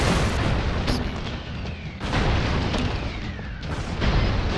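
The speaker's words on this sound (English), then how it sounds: "The airstrikes don't care about their own teammates. They just keep coming down." Air strike explosions rain down in the video game Broforce, a dense stream of loud booming blasts and rumbling bursts that follow one another almost without a break.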